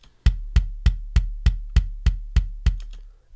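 A soloed close-miked kick drum track hits in a steady series of about ten punchy, dry thumps evenly spaced, loud and isolated with no other instruments.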